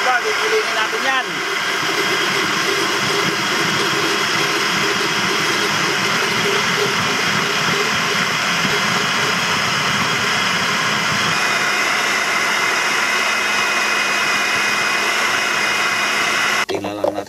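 A loud blender blending onion and water whirs continuously with a steady motor roar, briefly changing pitch near the start and stopping abruptly at the very end.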